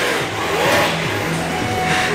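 An electric hair clipper buzzes close by during a child's haircut in a barbershop, giving a steady, continuous motor drone with a slight wavering pitch.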